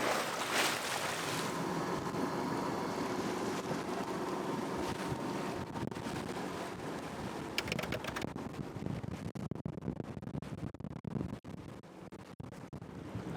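Ocean waves washing around a sailboat at sea, a broad continuous rushing wash mixed with wind buffeting the microphone, steady and fairly loud with gusty crackles toward the end.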